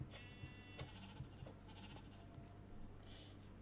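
Sheep bleat faintly in Minecraft survival version 1.18, a few short bleats scattered over a steady game ambience.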